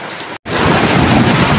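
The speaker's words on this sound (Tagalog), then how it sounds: "lakas pa ng mga kulog at kidlat." Heavy rain pours down hard and loud in a dense, steady roar with rumbling thunder mixed in, broken by a brief gap of silence near the start.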